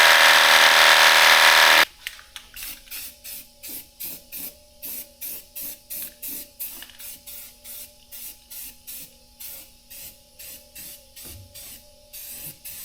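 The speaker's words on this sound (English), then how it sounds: "I'm going to spray it with some rattle can primer" A brief loud hiss of rattle-can primer spraying onto a truck engine bay, then a rapid rhythmic mechanical clatter with a steady hum, like a can being shaken or a machine running.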